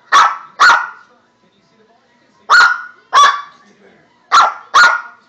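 A small dog yaps in quick pairs, three double barks spaced a couple of seconds apart, close and loud with quiet gaps between.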